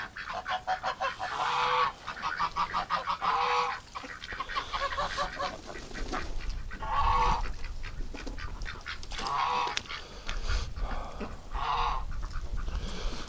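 Pet ducks quack and honk repeatedly near a tub in winter, with loud, close bursts of calls separated by short pauses throughout.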